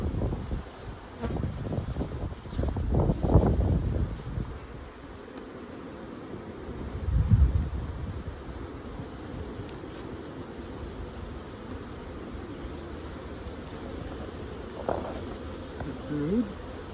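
Bees from a small beehive buzzing around during an inspection: a steady, fairly quiet hum with occasional closer flybys, broken by bursts of wind noise on the microphone and a person talking.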